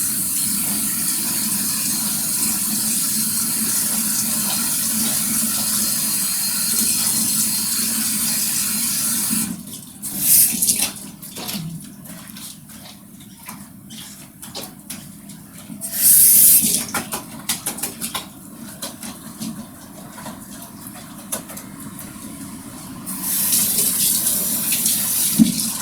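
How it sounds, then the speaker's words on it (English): Cold tap water runs steadily into a kitchen or bathroom sink for a rinse, a continuous hiss broken by a few gurgles, splashes and brief pauses as the flow changes, then resumes. "Now we use some cold water to rinse."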